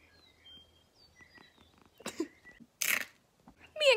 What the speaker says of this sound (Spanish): I will show you my cat.